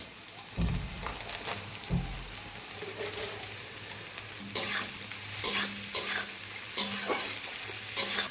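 Cashews and raisins fry in a pan of oil for fried rice, a steady sizzle with a few low scraping stirs early on and sharper crackling spits later, close and alone with no talking.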